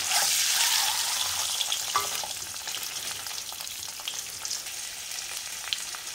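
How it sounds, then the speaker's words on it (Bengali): Duck eggs coated in turmeric frying in a pan, a steady crackling sizzle with a few sharp pops, fairly close and alone. "ডিমগুলো ভাজা হয়ে গেছে"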